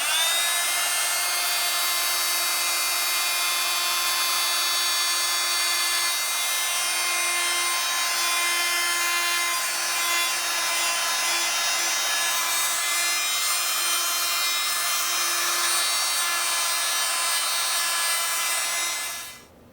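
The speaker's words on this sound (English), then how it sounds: "a multi-tool with a finger sander and 40 grit sandpaper. Watch it go after the rust on this lower swing arm." A multi-tool finger sander with 40 grit sandpaper grinds rust off a lower swing arm, a loud, steady high-pitched buzzing abrasion that runs without pause and cuts off at the very end.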